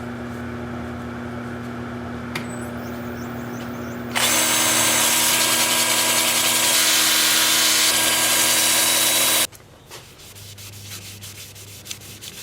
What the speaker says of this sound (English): Might help if I put a sandpaper disc on there.